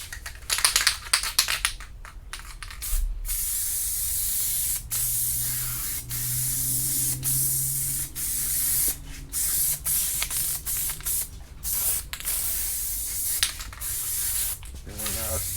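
Loctite spray adhesive hisses onto a cracked dashboard pad in a Chevy during a fiberglass repair, in repeated close bursts of steady spray broken by short pauses and a few rustles.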